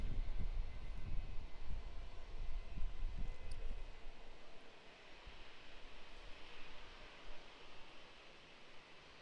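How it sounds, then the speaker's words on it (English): A Fiji Airways 737 on final approach at Brisbane Airport, a distant, faint broadband jet roar that is stronger at first and then fades to a steady low hiss of engine noise. "on final approach for our runway here, we have the Fiji Airways 737 from Natty"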